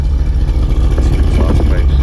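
A car engine idles with a steady low rumble, loud and close, heard through the exhaust.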